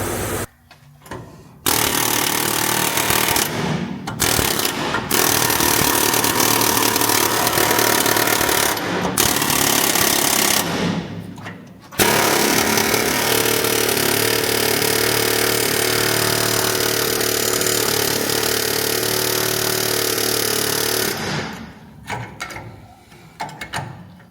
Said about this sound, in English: Let's go get the air hammer.